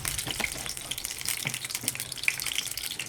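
Cumin seeds sizzling in two spoons of hot oil in a kadai, a steady crackling fizz with scattered pops running throughout, close and fairly quiet, with no voices.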